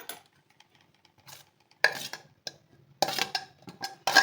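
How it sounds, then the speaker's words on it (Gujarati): Grated amla and beetroot mixed together in a bowl with a spoon, giving soft scraping and clinking strokes in irregular bursts. The sound is close and moderately loud, with no voices. "હવે આ બે વસ્તુ આપણે મિક્સ કરવાની છે"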